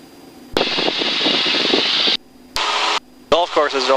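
Light aircraft engine at full power during takeoff, a loud steady drone broken by two abrupt cutouts, followed by a short burst of radio-like voice.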